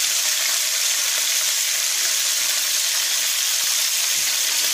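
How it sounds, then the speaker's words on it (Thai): Pork pieces frying in a hot pan, a loud, steady hiss of sizzling oil that fills the whole moment with no talking. "ใส่เนื้อหมูก่อนนะคะ เราใส่ที่ไปที่หลังค่ะให้เนื้อหมูกรอบนะคะ"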